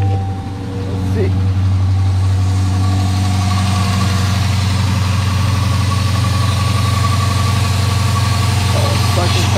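2015 Dodge Challenger R/T 5.7L Hemi with shaker hood and about 60,500 miles, idling steadily with a deep low rumble, and someone talking over it.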